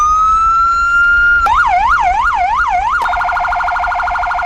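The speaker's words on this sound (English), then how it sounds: "Let's have a listen to the sirens." A Vancouver Police Department siren in Roblox plays loud and close, first a long rising wail, then a quick warbling yelp, then a rapid high-low pulsing tone.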